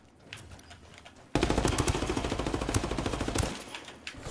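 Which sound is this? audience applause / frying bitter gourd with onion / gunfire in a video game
gunfire in a video game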